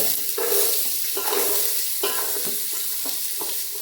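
Onion frying in hot oil with whole spices for a homemade chicken dum biryani, a steady loud sizzle broken by several bursts of stirring and scraping in the pan, with no voices.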